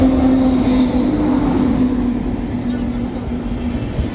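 A train arrives at Bolpur station, rumbling steadily nearby with a sustained tonal hum and low clatter, loud and continuous, with faint voices in the background.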